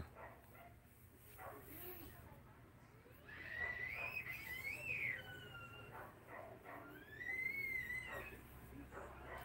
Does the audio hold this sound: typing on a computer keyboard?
no